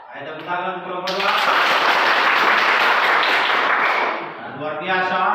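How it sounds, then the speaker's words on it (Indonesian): A classroom of students applauds a student group after its presentation, a dense burst of clapping lasting several seconds between stretches of talking at either end. "Ayo tepuk tangan kelompok 2."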